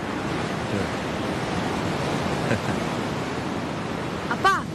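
Sea waves wash up on a beach in a continuous, full rush of surf noise with little variation, and a brief voice is heard near the end.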